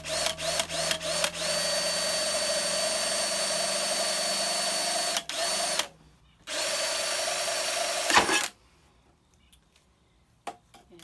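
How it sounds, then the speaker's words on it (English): A power drill bores an air hole in a metal tin container, starting with a few short stuttering pulses, then running as a long steady whine, pausing briefly, resuming, and cutting off, heard up close. "let's drill another hole here"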